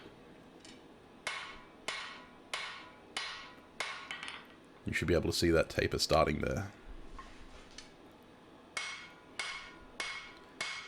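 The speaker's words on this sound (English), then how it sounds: "we're using a straight peen hammer" Rhythmic straight peen hammer blows ring out on steel while forging a hidden tang knife, in steady series, pausing while someone speaks, then the strikes continue at a regular pace.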